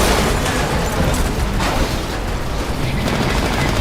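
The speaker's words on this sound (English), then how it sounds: "it's just a big lightning gun" Ion's lightning gun firing in the Titanfall game: a loud, continuous crackling, buzzing blast that fills the whole stretch without a break.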